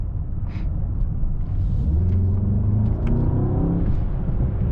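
A 2025 Mercedes-AMG S63 E Performance sedan accelerating from the cabin, a deep engine rumble climbing in pitch as revs rise, with road and wind noise underneath and no talking.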